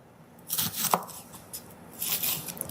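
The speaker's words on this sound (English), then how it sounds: "we're going to chop up our onions as well" A knife chops onions on a kitchen board in two short bursts of quick, close, crisp strokes separated by a brief pause.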